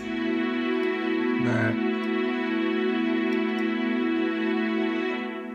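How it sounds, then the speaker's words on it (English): Hollywood Strings string ensemble in Omnisphere holding a sustained chord, smooth and steady throughout with a brief swell of added tone near the middle, warm and close. "what I would have definitely used is something called Hollywood strings in Omnisphere"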